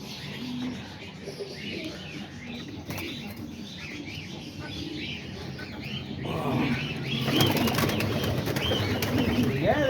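Pigeons in a loft on a rainy day, soft repeated cooing mixed with wing flaps and shuffling, with a busier rise of fluttering and rustle toward the end; a faint voice is present in the background.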